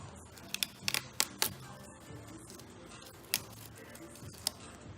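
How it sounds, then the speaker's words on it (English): Sharp snips of scissors cutting a headlight claw vinyl decal sticker for a car bumper, several isolated clipped cuts in quick clusters, close and fairly quiet with no talking. "When you're cutting this, you want to cut on the underneath side, so that way the sticker ends up peeling along with the curve of the bumper."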